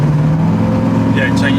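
A Porsche 928 engine drones loudly and steadily on kickdown, its pitch edging upward as it revs, heard from inside the cabin.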